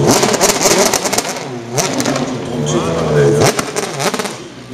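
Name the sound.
BMW M3 DTM race car engine on track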